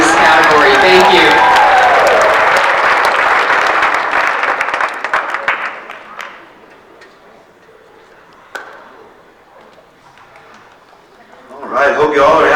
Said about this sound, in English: Another round of applause for all of our winners in this category.